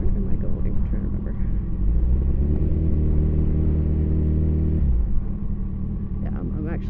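A 2017 Kawasaki Ninja ZX14R motorcycle engine runs while riding, giving a continuous low throaty drone that swells louder and steadier midway, then settles back to a rumbling idle-like note.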